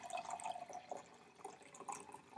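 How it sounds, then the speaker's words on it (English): Tap water running into a container for a lab experiment, a steady faint splashing and trickling with no talk over it. "The first step is to take some water and fill it about 3/4 full"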